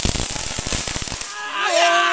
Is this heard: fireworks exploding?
yes